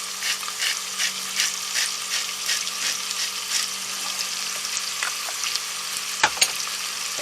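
Butter and olive oil melt together in a pan, giving a moderate, even sizzle with faint rhythmic stirring, a low steady hum beneath, and a brief clatter near the end.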